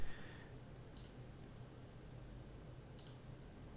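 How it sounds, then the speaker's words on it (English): Two short computer mouse clicks land about two seconds apart, sharp and close over a steady low hum, with no voice. "you can double click in there, and then you can go right click and copy"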